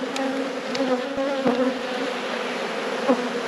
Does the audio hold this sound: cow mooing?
no